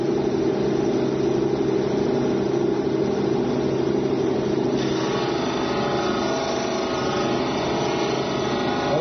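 A jade stone pressed hard into a spinning foam polishing wheel, a steady loud motor whir with grinding hiss that deepens and thickens midway as pressure builds, alone without talk.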